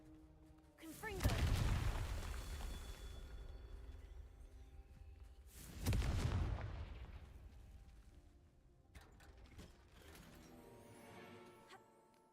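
Two big booming blasts from the Confringo fire spell in a Hogwarts wizarding video game, each with a sharp onset that rumbles and fades over a few seconds, followed by a softer third burst.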